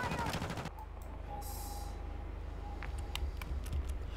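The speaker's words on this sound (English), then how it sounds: "You are taking effective fire." Gunfire in the video game Call of Duty Warzone 2.0: a loud burst of rapid shots opens, then fainter scattered pops sound at a distance over a low rumbling hum, with voices in the mix.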